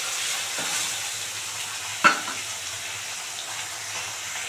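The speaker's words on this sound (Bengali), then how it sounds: "একদম লাল করে ভাজছি" Native koi fish frying in oil in a pan, a soft steady sizzle with one brief clatter as pieces are turned, no voices.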